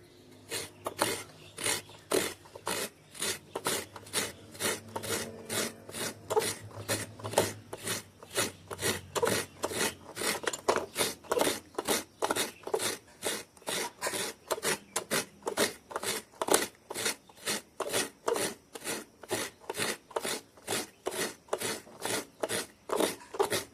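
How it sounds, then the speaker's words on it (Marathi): Coconut is grated by hand in a Konkan village kitchen, a steady rhythm of close rasping strokes repeating for over twenty seconds with no talking. "तर ना आता आपला खोबरा किसून झालेला असा."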